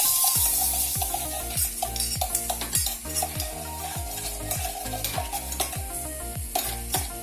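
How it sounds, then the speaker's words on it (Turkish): Two tablespoons of butter melting in a small cezve on the stove give a steady sizzle with stirring scrapes. The sound is close, fairly loud and continuous. "Erittiğim tereyağının içine"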